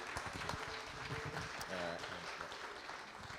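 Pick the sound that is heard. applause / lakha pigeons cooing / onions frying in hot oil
applause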